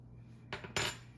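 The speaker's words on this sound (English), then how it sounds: "I'm about to take my fork and beat into this flour till it becomes crumbs." A fork scrapes and clinks against a bowl, beating butter into flour for curry puff pastry: two quick, close metallic strikes over a low steady hum.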